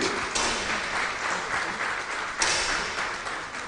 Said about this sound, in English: And a big applause for the Hungarian and his coach, Csaba Jako.